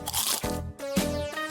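Someone bites into a crunchy pasta waffle, producing two sharp, close crunches in quick succession with no talk over them.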